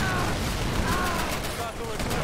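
Dense, continuous battlefield gunfire from the WWII strategy game Men of War: Assault Squad 2, set at the Stalingrad grain elevator, with rapid machine-gun bursts blending into a loud, steady fusillade throughout.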